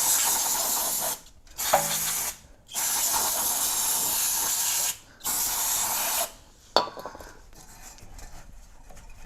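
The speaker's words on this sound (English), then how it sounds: "It's a good idea to use some brake clean down there." Brake cleaner sprays onto the lower ball joint area of a Toyota 4Runner's front suspension in three long, loud hissing bursts separated by brief pauses, followed by quieter clicks and rattling.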